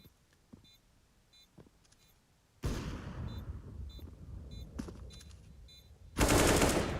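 A single loud AWP sniper rifle no-scope shot lands abruptly near the end, cutting through steady game noise from a professional Counter-Strike: Global Offensive match between Natus Vincere and Team Liquid on the Mirage map, played on the B site.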